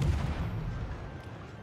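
Cruiser naval guns fire shells in the World of Warships video game: one deep, booming blast opens loudly and rolls off into a fading low rumble.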